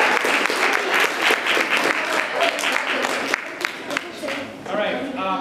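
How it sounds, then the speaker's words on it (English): A lively round of applause and clapping from a room of young coders at a Silicon Valley coders club meeting, dense and loud throughout, with voices mixed in beneath. "Can we give a round of applause for each one of you?"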